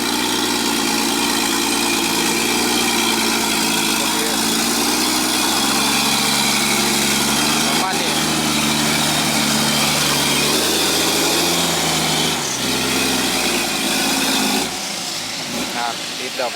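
A loud, raw truck engine with a straight exhaust pipe idles steadily with a rough, throaty rumble that barely changes, then drops off slightly near the end.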